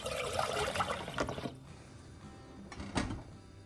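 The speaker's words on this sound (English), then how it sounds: "We have this instant bone broth. I'm gonna put it in my pot." Instant bone broth poured into a cooking pot, a close liquid splash and gurgle for about a second and a half, then a quieter pause and a brief second splash near the end.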